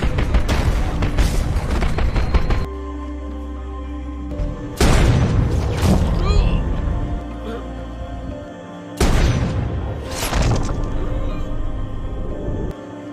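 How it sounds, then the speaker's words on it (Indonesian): Mortar rounds explode around soldiers in a battlefield rescue scene from a war film, with loud deep booms at intervals set against a dense layer of rumbling battle noise and film score. "Mereka terus diserang dan diserang menggunakan mortir."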